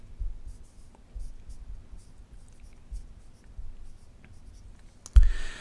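A pen or pencil writing on a math worksheet during a multiplication lesson, quiet scratchy strokes in short bursts, ending with a louder knock or tap.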